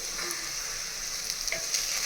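Chicken sukka roasts in a mud pot with turmeric, giving a steady, even sizzle and faint occasional stirring scrapes, continuous and unaccompanied by talk.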